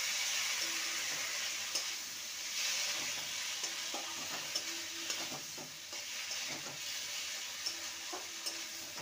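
A spice paste for a vegetarian potato and brinjal curry sautés in a pan with a continuous, moderate sizzle, broken by repeated scraping and knocking of a spatula as it is stirred, with no voices.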